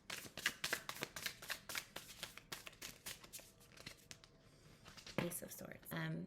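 Tarot cards shuffled in the hands, a rapid run of close, papery riffles, followed by a card drawn and handled with a soft slide and rustle; no speech.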